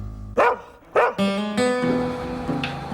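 Dogs in a knife-sharpening workshop give two sharp barks, then a run of longer, tonal whining yelps, close and loud with no talk.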